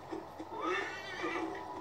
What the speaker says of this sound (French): on peut appeler notre cheval aussi. Qui est d'ailleurs appelé et qui est là